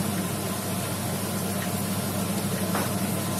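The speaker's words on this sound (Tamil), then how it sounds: "சோம்பு பொரிஞ்சிச்சுங்க" Steady hissing sizzle of fennel seeds crackling in hot oil, dense and continuous, with no talking.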